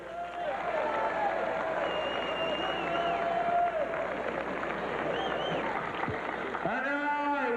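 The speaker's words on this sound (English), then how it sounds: "Big round of applause for Billy Wicks." Audience applause and crowd noise at a USWA championship wrestling event, greeting a Hall of Fame inductee; a steady, dense wash of clapping and cheering fills the arena throughout, with a voice speaking over it.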